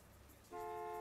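A car horn honks in the Gas Station Simulator video game, a single steady toot starting halfway through and holding to the end, fairly faint.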